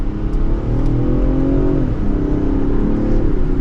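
A 2024 Range Rover Sport Dynamic accelerates mildly in second gear, its engine giving a steady, loud, rising hum heard from inside the cabin with road rumble beneath.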